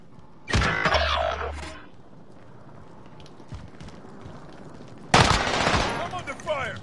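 Gunfire in the Warzone battle royale game: two loud bursts of rapid automatic fire, the first about a second long and the second near the end, with quieter game noise in between.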